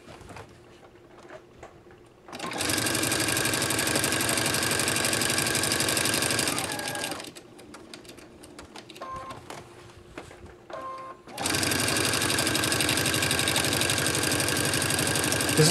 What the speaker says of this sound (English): I'm going to stitch around the edge, the whole edge of this this chamois, this new chamois mop.